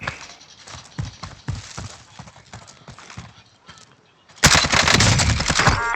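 Gunfire in Call of Duty Warzone, scattered shots under game noise and hoofbeat-like thuds, then a loud sustained burst of rapid automatic fire near the end.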